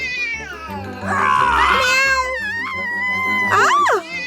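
A voice imitates a cat as a cartoon character meows, a long, wavering, whiny meow that bends up and down in pitch and ends in a rising yowl, loud and close.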